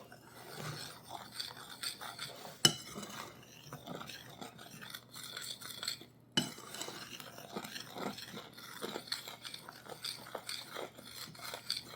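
Cornbread batter being stirred together in a bowl: soft, irregular scraping and swishing strokes that continue steadily, with a couple of sharper knocks against the bowl.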